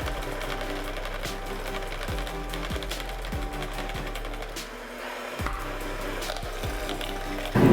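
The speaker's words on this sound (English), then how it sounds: "we're going to be adding the mascarpone to the egg yolk mixture little by little while we're spinning it and stirring it medium speed with the whisk" An electric mixer with a whisk attachment whirs steadily at medium speed, blending mascarpone into an egg yolk mixture. A constant mechanical drone carries periodic rhythmic clicks and rattles.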